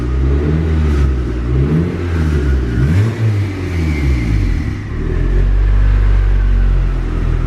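A turbocharged Honda Civic engine runs at idle up close, a loud steady rumble that wavers slightly as the idle hunts up and down, with no talk.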